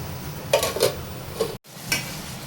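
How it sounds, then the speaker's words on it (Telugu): A metal lid is set onto a pot of chicken dum biryani, giving a few close clattering knocks over a low background hum, with a short dropout before one last tap. "ఇప్పుడు మనం దీనిపైన మూత పెడదాం"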